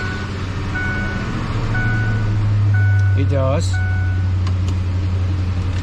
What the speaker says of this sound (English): the car is going to start